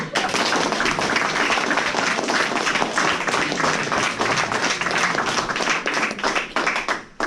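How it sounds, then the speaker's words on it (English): Dense, loud audience applause at a Walkaway event at Berkeley, sustained clapping from a large crowd filling the room for several seconds before tapering off abruptly at the end. "Applause."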